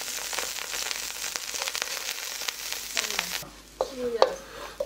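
Garlic stir-fries in a small pot for Filipino menudo, giving a steady close sizzle that gives way to scraping stirring and crackling.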